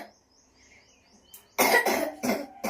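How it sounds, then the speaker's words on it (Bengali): A child with a cold coughs on request indoors, three or four sharp, close coughs in quick succession after a quiet start with faint chirping in the background. "কই দেখি, একটু কাশো দেখি।"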